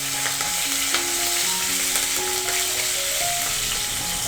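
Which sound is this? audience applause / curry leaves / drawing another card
curry leaves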